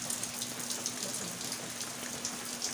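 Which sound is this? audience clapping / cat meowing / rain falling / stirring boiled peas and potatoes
rain falling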